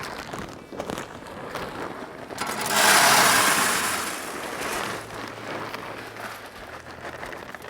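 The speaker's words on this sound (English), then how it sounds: "we're gonna need to fill this up with pellets" Camp Chef competition blend wood pellets pour into the 22-pound hopper of a Camp Chef SmokePro SG30 WiFi smoker, a rushing, rattling cascade that swells for a couple of seconds amid nearby handling noise.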